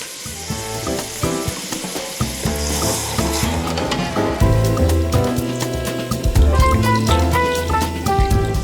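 Broth poured into a hot pan over peppers hisses into a strong, continuous sizzle with bubbling and crackling that stays loud and close throughout.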